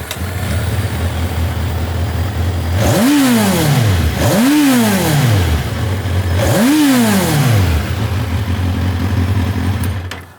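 A naked motorcycle's engine is revved hard three times to about 10,000 rpm, each blip rising sharply and falling back to a steady idle, loud and close with no talking.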